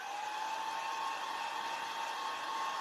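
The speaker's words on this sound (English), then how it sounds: "I'm going to turn the dryer on, you guys." A hair dryer runs steadily and loudly on its own, a constant whooshing blow with a steady motor whine and no breaks.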